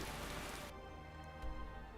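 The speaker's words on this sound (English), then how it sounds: "as it is, we've got the rain." Steady rain patters across the Bruma landscape in Skyrim, a dense even wash of falling water that carries on throughout with no voices over it.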